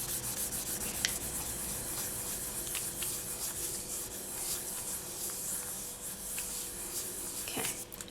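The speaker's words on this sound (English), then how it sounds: "I'm just going to burnish that again so that it is nice and stuck down onto the black." Polymer clay being burnished down onto a sheet of black polymer clay, a close, steady rubbing and scraping that runs without pause, with no talking.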